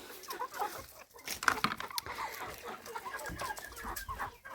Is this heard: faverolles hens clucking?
yes